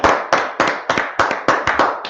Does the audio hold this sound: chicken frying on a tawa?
no